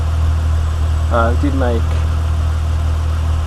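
Steady, low idle hum of a Nissan 350Z engine fitted with a lightweight crank pulley, smooth and constant, with a man's brief remark over it.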